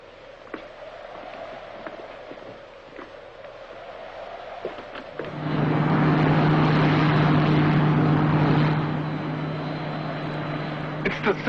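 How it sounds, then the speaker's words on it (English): Science-fiction spaceship landing effect from a 1954 Space Rangers serial: after quiet dialogue, a loud sustained roaring drone with a steady low hum rises midway and holds to the end, with brief talk before it. "a Space Ranger ship is landing."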